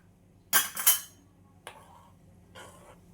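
A spoon scrapes and clinks against a pan while mixing pickle spices with turmeric and coriander seeds, two quick bursts followed by two softer strokes, close and alone.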